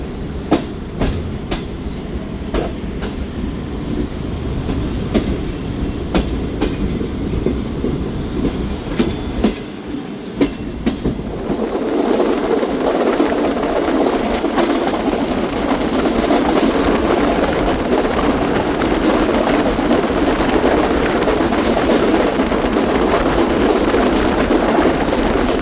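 A Pakistani passenger train, the Shalimar or Pakistan Express, rumbles steadily past nearby with a rolling clatter of wheels on rails, growing fuller and louder about halfway through and staying dense to the end, with no talking.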